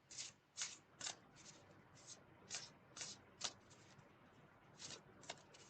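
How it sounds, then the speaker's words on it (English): Sacred Forest Oracle cards are shuffled by hand, a quiet, regular series of crisp riffling flicks about twice a second. "shuffle these. This is the Sacred Forest Oracle."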